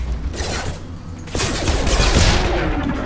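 Bursts of automatic gunfire and shots in a Mass Effect firefight, with dense, continuous rattling that grows louder and heavier partway through, alongside mechanical clanks.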